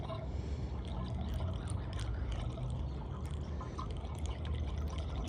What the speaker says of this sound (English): we're taking distilled water, not tap water, because we don't want to have all the sediment and stuff build up from tap water. And we're just going to slowly pour it in.